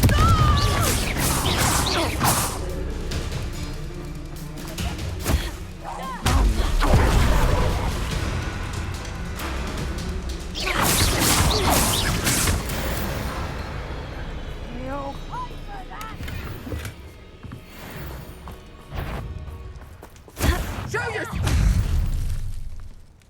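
Confringo blasting curse explosions from Hogwarts Legacy combat, several heavy booms and crashes in bursts amid ongoing fight noise, with a voice speaking over parts of it.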